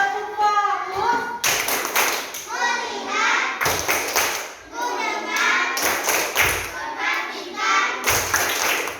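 Children in a classroom perform a rhythmic clapping chant with their teacher: sharp bursts of clapping at regular intervals between stretches of sung and spoken young voices, close and lively.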